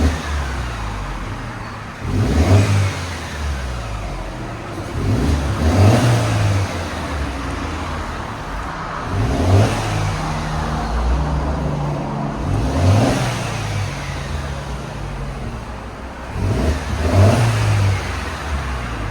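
A 2012 Mercedes C250 with its factory converter and resonator still fitted, revved several times in a row: each sharp engine surge rises and falls about every four seconds, loud and close, with no one talking.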